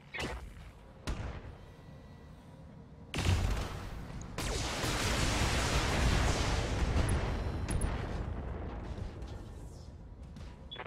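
Assault mechs firing weapons in the Battletech main campaign: a couple of sharp heavy shots, then a loud blast that swells into a long, dense roar of explosions and weapon fire, slowly fading.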